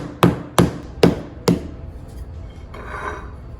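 A rolling pin strikes floured pie dough four times in a steady rhythm, each blow a sharp close thud, followed by quieter soft rustling as the flattening stops.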